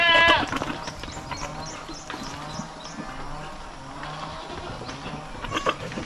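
Goats on a Filipino farm bleat a few times at moderate distance, with a short bleat at the start and fainter cries scattered through a steady background of farmyard noise and light movement.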